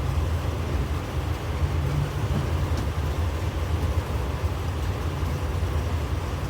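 The Chattogram Mail train runs on its way from Dhaka toward Feni, a loud, steady rumble of wheels and carriages with no pause.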